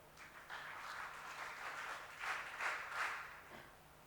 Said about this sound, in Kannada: ತಮ್ಮೆಲ್ಲರ ಚಪ್ಪಾಳೆಯೊಂದಿಗೆ